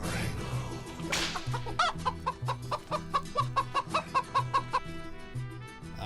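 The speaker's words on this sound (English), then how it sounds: "let's see what the chicken's got to say" A played chicken sound effect: a sharp whip-like crack opens, then a rapid series of clipped clucks runs in an even rhythm over a low pulsing backing, fairly close and clear.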